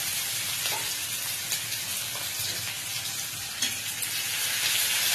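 Aloo chokha, mashed potato with green chilli, frying and being stirred in a pan, giving a loud, continuous hissing sizzle with occasional scraping knocks from the stirring.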